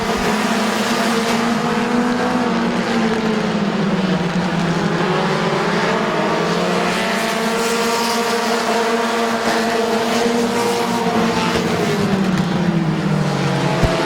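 Stock cars racing around Midvale Speedway, a loud continuous roar of several engines rising and falling in pitch as the pack circles the track, no voices.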